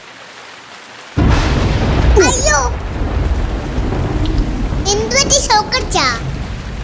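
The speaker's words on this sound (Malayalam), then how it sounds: "പടക്കം പൊട്ടണല്ല ഇടി കൊടുക്കണ" Thunder breaks during rain as a sudden loud, deep rumble that rolls on under steady rainfall, while a voice exclaims and talks over it.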